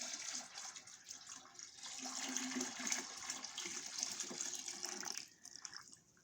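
Warm sugar water is poured into a first-time homemade wine batch, a steady gushing splash lasting several seconds before tapering off, close and fairly quiet with no talking.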